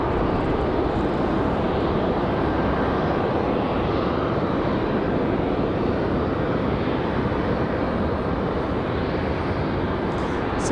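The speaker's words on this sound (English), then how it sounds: "Then we have a Southwest coming in just behind that one." A Southwest airliner coming in to land at Raleigh-Durham airport makes a loud, sustained engine roar with heavy low rumble, steady and close for the whole stretch.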